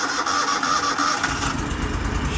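Kohler CH-745 engine on an Exmark Lazer Z zero-turn mower cranking and catching: a grinding starter gives way midway to a loud, low running rumble, close by.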